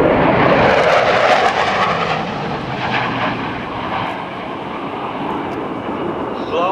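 An F/A-18C Hornet jet flies a demonstration at the 2005 NAS Oceana airshow, pitching up for landing. Its loud, rushing engine roar dominates at first, then gradually eases and fades while remaining strong throughout.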